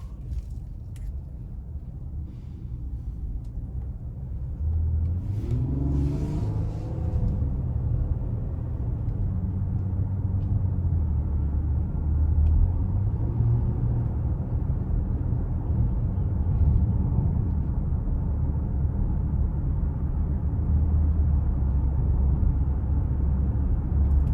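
A 2022 Nissan Pathfinder Platinum driving in sport mode under light throttle, heard from inside the cabin as a steady low engine and road rumble with a smooth rising and falling engine note.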